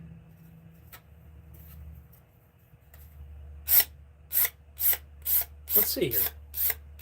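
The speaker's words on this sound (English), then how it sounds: "I'm just taking a razor blade, like a scraper, and kind of putting a light bevel on that." A razor blade used as a scraper puts a light bevel on a piece, heard as a run of regular rasping scrapes, about seven strokes in quick rhythm, close and crisp, after a short spoken remark over a low background hum.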